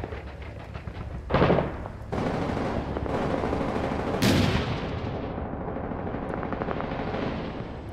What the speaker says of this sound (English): Throwing a frag over the wall.